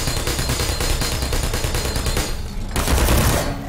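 A Portal sentry turret firing nonstop, a loud, close stream of rapid automatic shots that briefly drops away and then resumes, with no voices over it.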